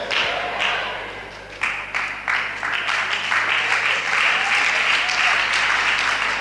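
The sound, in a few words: women in the audience applauding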